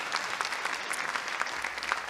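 An audience at the Apple Blossom Royalty Selection Pageant bursts into steady, dense applause, many hands clapping together at moderate volume for the whole stretch, with no voices over it.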